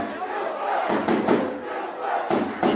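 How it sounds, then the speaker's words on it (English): Crowd chanting at a Guildford Owls under-16 division one rugby grand final, loud rhythmic group shouts rising in several bursts over a couple of seconds. "You hear the chants of Guildford."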